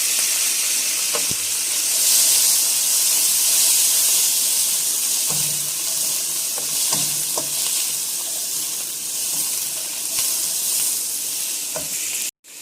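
Vegetables hit hot oil seasoned with garlic powder for a cashew chicken stir fry, producing a loud continuous hiss and sizzle close by, with scattered clicks of stirring and no voices.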